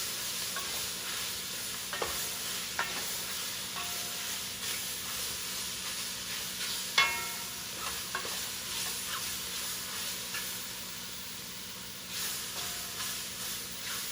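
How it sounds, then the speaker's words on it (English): Japchae stir-frying in a smoking hot cast iron pan, a constant soft hiss and sizzle with scattered light scrapes and clicks of stirring, fairly quiet and without talk. "Smoking hot pan, so you want to keep this stuff moving. Just like you're cooking with a wok."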